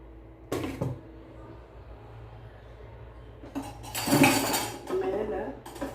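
A hot metal kadai is set down inside for baking coconut ghee biscuits, giving a short metallic clank near the start and a louder scraping, clattering burst of pan contact later, with quiet room noise between.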